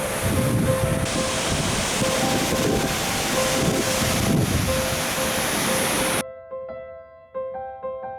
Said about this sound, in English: But here is a really beautiful waterfall.